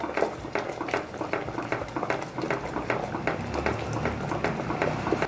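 Laphing batter stirred continuously in a pot over a medium flame, giving steady, closely spaced spoon scrapes and clinks against the metal with a soft bubbling, wet texture throughout, near and fairly loud with no talk.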